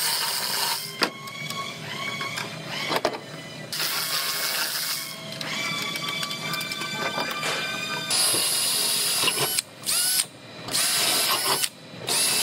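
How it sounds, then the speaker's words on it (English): A drill bores holes for blind rivets in a BMW body panel, with a whining, gear-like hum running in several bursts separated by short pauses. "I'm gonna go ahead and drill all my holes where the blind rivets go"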